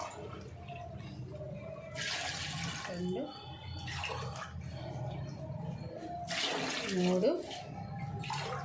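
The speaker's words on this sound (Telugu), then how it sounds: "నేనైతే వాటర్ పోసుకుంటున్నా. 6 గ్లాసులు అయితే పోసుకుంటున్నాను నేను" Water poured glass by glass into a biryani pot over cooked masala, bursts of splashing pouring with short pauses between them, while a voice counts quietly.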